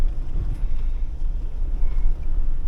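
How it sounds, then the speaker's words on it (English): Strong gusty wind buffeting the microphone, a deep rumbling roar that surges and dips throughout. "Really windy out here"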